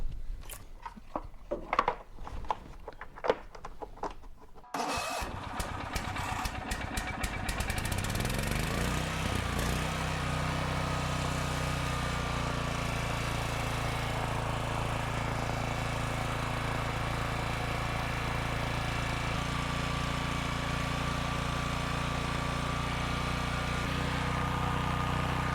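A used $50 gasoline generator engine sputters and cranks at first, then settles into a steady, close running drone that continues for the rest of the stretch.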